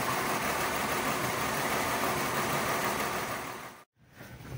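A Ford Escape V6 engine with a misfire idles with a dense, steady roar, then is switched off and cuts abruptly to near silence before faint background noise returns.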